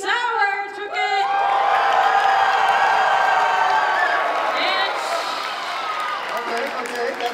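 Convention audience at a furry convention dance competition cheering, whooping and screaming loudly, a sustained crowd roar that swells and holds for several seconds with overlapping shouts.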